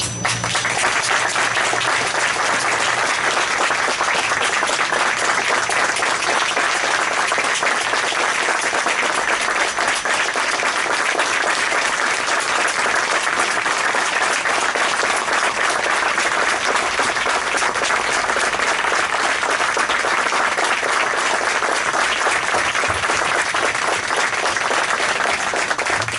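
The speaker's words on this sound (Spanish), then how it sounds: "un fortísimo y caluroso aplauso de nuevo para vosotros" A large audience gives long, sustained applause at an honors ceremony for the Guardia Civil, dense and loud clapping that holds steady without pause for the whole stretch.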